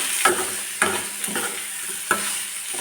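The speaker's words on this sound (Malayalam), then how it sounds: "മുളകിൻ്റെ പച്ചമണം പോകുന്നത് വരെ ഇളക്കി കൊടുക്കാം." A spoon stirs crushed dried chilli flakes as they fry in a pan, each stroke landing as a soft clack over a steady bright sizzle, close and clear, with no voices.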